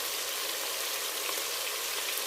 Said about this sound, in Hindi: अब इसकी फ्लेम जो है इसको हम लो करके इसमें हम दही डाल देंगे।